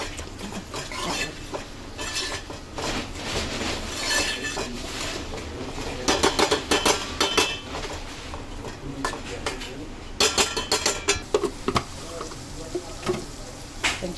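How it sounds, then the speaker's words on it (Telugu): Prawns cooking with dosakaya (cucumber) curry and chilli powder are stirred in a pan, with a steady sizzle and bursts of metal spoon scraping and clinking against the pan, loudest in the middle and toward the end. "ఈ కారం పొడి వేసి మంచిగా కలుపుకోవాలి"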